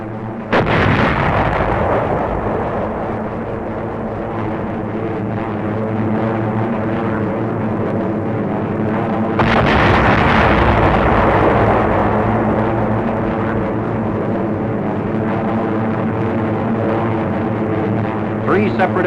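Big aerial bombs burst in heavy, sustained explosions that rumble loudly and continuously, with a fresh blast partway through, as a narrator speaks over the din.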